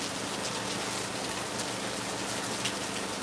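A heavy downpour in Lagos, a thick unbroken roar of rain with nothing else over it.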